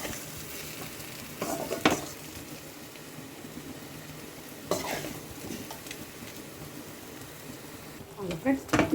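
Onions sautéing and being stirred in a pan for a home lunch, a low steady sizzle with a few bursts of scraping spoon-on-pan stirring, close and moderate in level.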